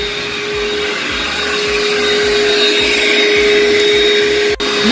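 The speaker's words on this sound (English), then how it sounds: "he's gonna vacuum" A vacuum cleaner runs steadily on carpet before steam carpet cleaning in a home in Champions Gate, Davenport, a loud constant whine with rhythmic thumps as the head is pushed back and forth.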